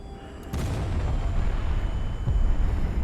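A ship's gun firing a guided laser-corrected shot in HighFleet, a sharp report followed by a deep, rumbling boom that swells and lingers for a few seconds.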